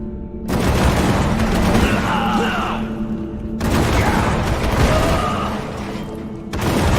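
Bombard spell explosions in the video game War for the Overworld, two long heavy booming blasts with rumbling debris and crackle, loud and close, each lasting about three seconds with a brief gap between.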